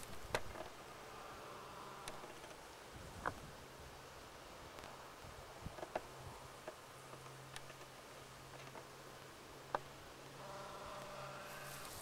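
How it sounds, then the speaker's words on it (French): European hornet buzzing faintly outdoors on a riverside levee, a low drone drifting in and out among soft rustling and wind, with a few small ticks and clicks and no talk. "Un frelon européen."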